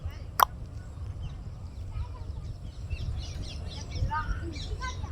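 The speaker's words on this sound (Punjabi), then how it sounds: "ਆਹਾ ਚਿੜੀਆਂ ਦੀ ਚਹਿਚਹਾਟ" Sparrows and parrots chirp in scattered short bursts in a small village park after rain, against a low outdoor rumble, with one sharp click near the start.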